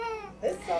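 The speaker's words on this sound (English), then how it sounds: "A baby cries when it needs something." A baby's short, wavering cry rises in two brief bursts, close by and fairly quiet.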